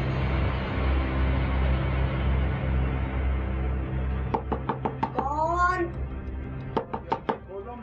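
A steady low background hum gives way to a series of sharp knocks on a door, several quick raps in two bursts, interrupted by brief voice-like tones between them.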